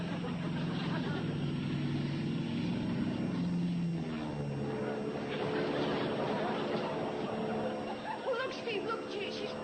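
A small propeller airplane drones overhead, its engine hum rising and falling faintly in the distance while several people talk over it.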